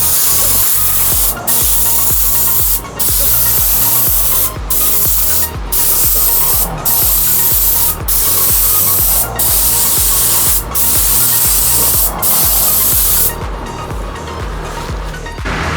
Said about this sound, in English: We're just trying to get a light mist coat on this